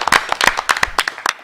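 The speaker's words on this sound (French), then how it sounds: "je vous demande d'applaudir très très fort" A small studio audience on a morning television show claps in short, uneven bursts, the individual hand claps close and distinct rather than a dense roar.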